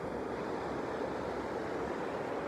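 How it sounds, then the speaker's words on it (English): Rushing water from a rapid on the Platte River in Casper, Wyoming at sunset, a steady broadband roar that stays loud and unbroken throughout, with some wind buffeting the microphone. "Look at that rapid right there."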